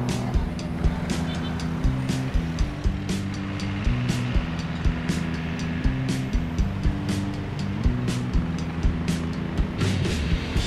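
Cars and other vehicles drive along a busy road, a steady, fairly loud engine and tyre rumble with vehicles passing one after another throughout, and no voices on top.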